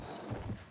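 Horse hooves clop in the cavalry combat of the video game Battlefield 1, a brief run of a few quick, muffled hoofbeats close by against a dense game-noise background.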